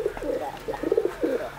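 Pigeon, a black bird recently out of the loft, giving close rhythmic coos in about four bursts over soft background noise.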